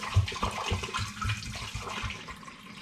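Homemade eucalyptus cider at 7.9% ABV is poured out, giving a close, splashy, gurgling liquid sound that runs for a few seconds.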